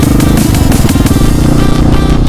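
A Yamaha R15 V3 motorcycle with a modified Akrapovic-style exhaust idles and revs loudly up close, its engine note a rapid, throbbing pulse that stays strong and steady throughout, with no voices.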